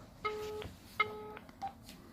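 Telephone dialing tones from a phone call: two sustained dual-tone beeps and a shorter third tone, moderately loud over faint background hiss, with no talking.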